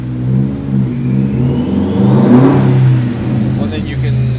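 A built 2006 Subaru WRX revving on a dyno, its engine note rising steadily to a loud peak and easing back, with a whirring drone throughout close by.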